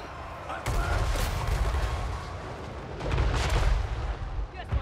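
Dwarf hand gunners fire volleys in a Total War Warhammer 3 battle, making a heavy, rumbling barrage of overlapping shots. The dense battle noise runs continuously and swells near the end, with faint voices mixed in.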